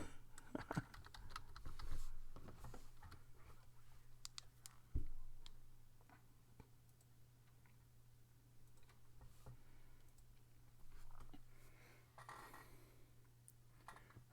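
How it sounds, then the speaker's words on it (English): Quiet typing on a computer keyboard: scattered soft key clicks and short bursts tapping irregularly over a low background hum, with brief pauses between runs. "I knew what you were typing."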